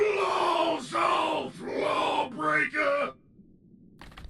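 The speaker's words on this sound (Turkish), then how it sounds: "Çok fena bağırdı." A character in the video game Another Crab's Treasure lets out several loud, drawn-out screams and groans in quick succession, each a few seconds long, followed by a brief quiet moment.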